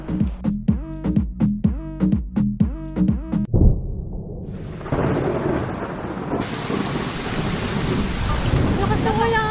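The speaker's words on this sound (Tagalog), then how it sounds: "Lakas na ulan." Heavy rain drums down hard amid booming thunder, with a rapid run of loud rumbling cracks at first, then a dense, steady roar of rain on surfaces that stays loud to the end.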